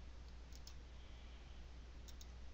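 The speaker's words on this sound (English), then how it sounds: "right click, hit copy" Computer mouse right-clicking while copying text: two faint, crisp little clicks, one early and one near the end, set against a soft steady background hiss with no talk.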